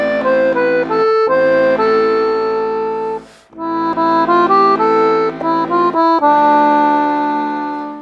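An accordion plays the rubato introduction of a song, loud and close, with sustained chords and melody that stretch and pause freely, one brief break mid-phrase, no voices.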